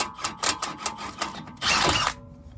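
An impact wrench spins off a 21 mm nut on a BMW thrust arm in a series of short, sharp mechanical bursts, followed by a longer, louder rattling run near the end before it cuts out.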